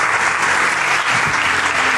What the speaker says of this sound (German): dafür mal einen kleinen Applaus für diese wunderschöne Geschichte